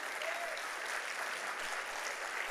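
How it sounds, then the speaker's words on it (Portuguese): A church congregation applauds in a steady, even burst of clapping heard from a little distance, with a brief faint voice over it near the start. "Pode aplaudir Jesus."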